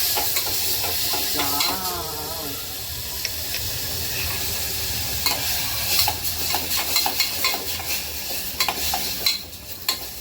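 Grated carrots sautéing in ghee for gajar halwa, a steady close hiss of frying with intermittent stirring scrapes and spoon clicks against the pan.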